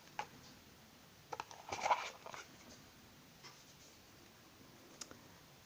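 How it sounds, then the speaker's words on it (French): Oracle cards slide out of their box with a cluster of soft papery rustles and light clicks up close, set among scattered faint ticks in an otherwise quiet room. "On va sortir les cartes."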